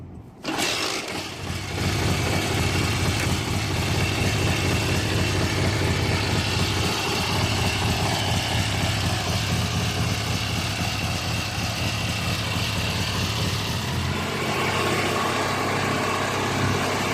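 A Donghai 750 Chinese sidecar motorcycle engine idles nearby with a steady, even running note that holds for the whole stretch, heard alone.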